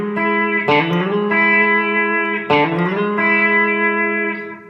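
Twangy electric guitar licks through an effects chain, with two bright picked phrases that bend and ring out in sustained harmonics, played alone and up close.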